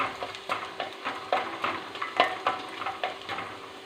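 Garlic and chillies fry in a hot pan with a steady oily sizzle, while a spatula scrapes and stirs in regular, closely spaced strokes, close and fairly loud with no talking.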